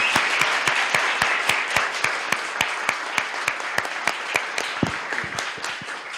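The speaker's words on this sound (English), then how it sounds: "Everybody, please give a big round of applause to Peter Mears." At a Nerd Nite Tokyo talk night, an audience gives a round of applause for speaker Peter Mears, with a steady crowd clapping and one close clapper's sharp regular beats standing out above the wash.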